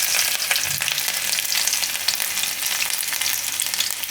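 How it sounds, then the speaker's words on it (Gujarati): Chopped garlic and chillies sizzle fiercely in hot oil in a steady, bright crackle, with faint stirring knocks underneath and no voices. "તો તેલમાં આપણે આ લસણ નાખી દઈએ, અને મરચાં નાખી દઈએ."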